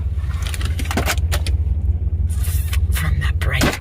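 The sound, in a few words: truck driving on the road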